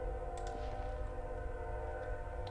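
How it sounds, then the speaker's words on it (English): A train passes in the distance with a steady low rumble and a sustained tonal horn-like drone, with a few faint clicks over it and no talking. "Why does the train always come along when I'm doing this?"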